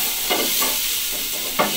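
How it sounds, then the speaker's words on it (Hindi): Onions fry in a pan, a constant loud sizzle and hiss, with a couple of brief stirring scrapes over it and no voices. "इसे थोड़ी देर के लिए फ्राई करते हैं, रोस्ट करेंगे ताकि ये प्याज का कच्चापन खत्म हो जाए।"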